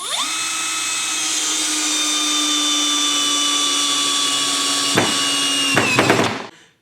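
A cordless hammer drill on a high-torque, low-speed setting drives a long 3-inch screw into softwood, its motor whining in a steady, loud hum for about five seconds before two short dips and a final wind-down, with no talking.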